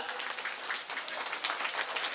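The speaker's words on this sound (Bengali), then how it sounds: "একটু জোরে হাততালি দিন সব ছোট ছোট খুদে এরা।" Audience clapping for small children receiving prizes at a competition, a brief spell of mixed, uneven applause with individual claps standing out over the crowd, moderately loud.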